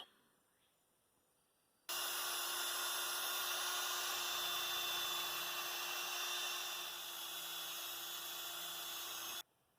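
A wire wheel whines steadily against burned-on material in the cylinder bore of a Kohler Magnum M18 engine, a continuous high-pitched grinding that starts abruptly and cuts off after several seconds.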